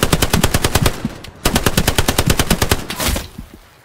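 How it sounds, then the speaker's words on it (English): Machine-gun fire in the WWII shooter Hell Let Loose rattles in fast, loud bursts. A short gap separates two long strings of rapid shots, which then taper into a fading echo. "He's trying to shoot me."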